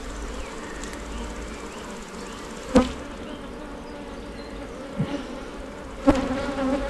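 Honeybees buzzing steadily around an opened split box hive during an inspection, a dense close drone with a few sharper bumps and knocks.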